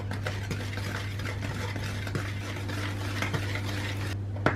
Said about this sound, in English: We're gonna put that in, whisk this together